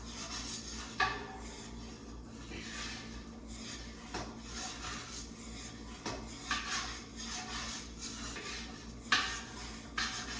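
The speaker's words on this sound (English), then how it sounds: "You stir it until it gets that beautiful color in it." A spoon scrapes and clinks around a pot of shrimp étouffée, with irregular metallic taps and rubbing strokes repeating at a moderate pace, fairly quiet and close, with no voices.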